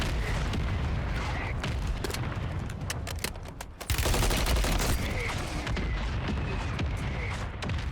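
Modern Warfare 3 gunfire, rapid bursts of shots and crackling fire with booming impacts in a busy battlefield mix, a brief lull midway before the shooting resumes loudly.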